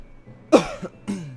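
Two separate coughs, close and fairly loud, the first sharper and the second shorter after a brief pause, in an otherwise quiet room.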